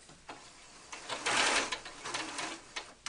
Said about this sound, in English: go straight to the sewing machine to secure that in place